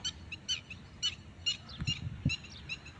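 Birds call near mangroves in hot weather, giving a series of short, high chirps and tweets in irregular bursts at moderate distance, with a few faint low thumps between them and no voices.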